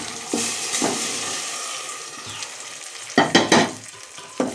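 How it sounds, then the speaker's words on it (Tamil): Chicken pieces drop into hot oil for a chicken kulambu and fry with a steady close hiss, broken by a few sharp scraping and stirring clatters near the end. "எண்ணெயில் இந்த கறியை போட்டுடணும்"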